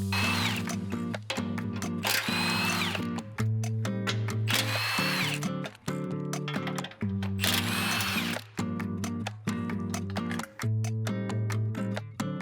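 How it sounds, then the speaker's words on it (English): A power tool with a 17mm socket spins off end caps on a Toyota Tacoma crash bar during a skid plate installation, running in repeated whirring bursts separated by short pauses, close and loud throughout. "You'll do this using a 17mm socket."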